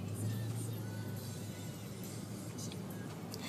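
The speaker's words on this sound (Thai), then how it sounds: "รถติดมาก" Steady low road rumble of cars crawling in heavy Friday traffic near Bang Pakong, Thailand, heard from inside a vehicle, continuous and moderate with no distinct passes.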